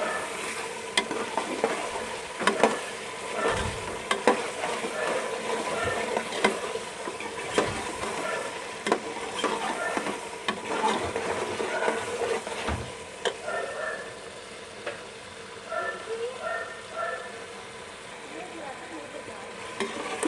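Potatoes and spices for an aloo matar curry fry and are stirred in a pan, a steady close sizzle broken by scraping strokes and occasional knocks of the spoon.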